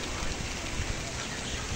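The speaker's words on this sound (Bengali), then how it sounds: "আর এই বৃষ্টি ভেজা সকালে" Steady rain falls on a wet morning, spattering on broad taro leaves, a dense even hiss running throughout with no voices.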